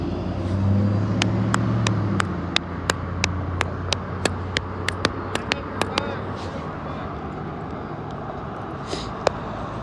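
Cars cruising past along a street on a Sunday: a steady, close road rumble that swells early and then holds, with a string of sharp clicks and ticks scattered over it and faint voices in the background.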